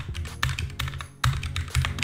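Typing on a computer keyboard, close and fairly quiet, with rapid irregular key clicks grouped into short bursts and brief pauses between them.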